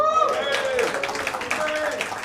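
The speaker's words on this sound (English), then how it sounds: "Round of applause if you say Bombay." Comedy club audience bursting into applause and scattered cheers after a brief voice, the clapping dense and steady for a couple of seconds.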